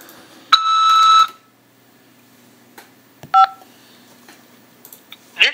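Telephone keypad tones as the 5 key is pressed to accept a call from a jail, a clear close beep followed by shorter bleeps, mostly alone.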